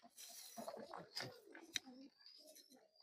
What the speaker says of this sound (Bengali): মারামারি লাগিয়ে দিছে কবুতরগুলা